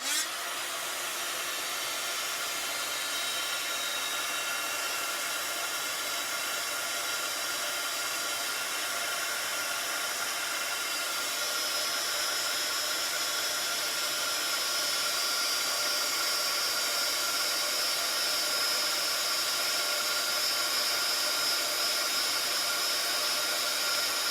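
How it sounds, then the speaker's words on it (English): An embossing heat gun blows with a steady, loud hissing whoosh throughout, unbroken and close by, with no voices. "this will make a little bit of noise, and I'll just emboss what I have here"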